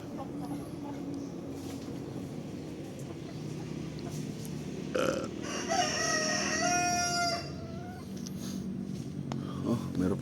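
Native chickens fill the yard with clucking, and a rooster crows once clearly at mid-distance over steady outdoor background noise.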